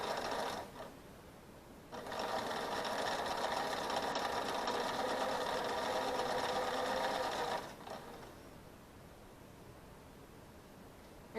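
A sewing machine runs steadily for about six seconds while stitching a quilt seam, the fabric eased along by the feed dogs. It produces a close, even mechanical whir between quieter stretches.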